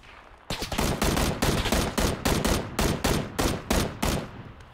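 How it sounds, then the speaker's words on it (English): Rapid bursts of loud gunfire from the video game PUBG, about a dozen sharp shots in an even, quick rhythm, with no talk over them. "Now I'll start taking some shots here"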